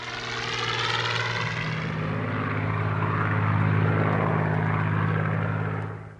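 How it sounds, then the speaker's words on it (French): A Supermarine Spitfire fighter with a Rolls-Royce engine flies past, its propeller engine roaring loud and steady with a throbbing drone before fading at the end; no voices. "Il est bientôt remplacé par le fameux Spitfire, que le pilote d'essai Jeffrey Quill présente à Churchill. Équipé d'un moteur Rolls-Royce"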